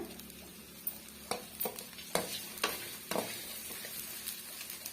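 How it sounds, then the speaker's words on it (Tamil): Cumin seeds frying in a pan over high flame for a chutney, with a steady sizzle under a series of sharp scraping stirs from a spoon against the pan, close and fairly quiet, with no talking. "சீரகம் சேர்த்துக்கலாம் சேர்த்துட்டு இதையும் வந்து நல்லா வந்து மிக்ஸ் பண்ணி கொடுத்துக்குங்க இப்போ ஹை ஃபிளேம்ல வச்சுக்கோங்க"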